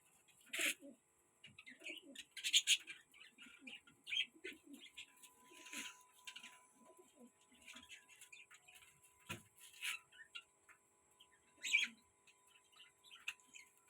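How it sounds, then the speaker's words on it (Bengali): Domestic flying pigeons, a black-footed breed, coo and call in scattered bursts with soft wing and shuffling sounds, close by and otherwise quiet. "এসব আমাদের ঘরের ওড়াইয়ের পায়রা, সব পর দেওয়া পায়রা আছে।"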